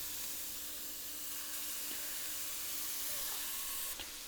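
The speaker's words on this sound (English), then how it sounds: "I'm gonna go ahead and add them to a preheated cast iron skillet." Burger patties sizzle in a cast iron skillet preheated over medium-high heat, a steady broadband hiss holding level throughout with a few faint clicks near the end; no talking.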